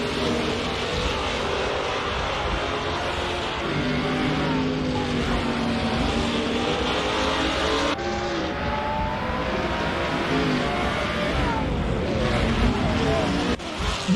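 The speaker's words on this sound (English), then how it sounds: "Squat Bender in turn 11 is P10 driving a Aston Martin" Simulated GT4 race cars lapping Laguna Seca in a video game, with a steady layered drone of engines changing pitch through the gears and a commentary voice talking over it.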